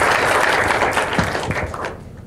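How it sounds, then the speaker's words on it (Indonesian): A seated audience at an Indonesian evening discussion on millennials and democracy claps together in a short, dense burst that fades out after about two seconds. "Tepuk tangan dulu."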